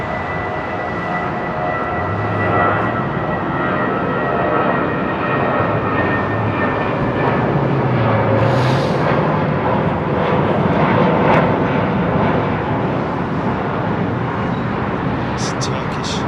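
A jet aircraft departs from runway 09R at London Heathrow Airport, its engine roar a steady, loud wash that persists throughout with a slight swell in the middle, with no voices heard.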